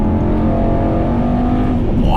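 A 2018 Mercedes-AMG E63S Wagon accelerates, heard as a deep, loud engine rumble from inside the car that swells toward the end, with faint voices mixed in.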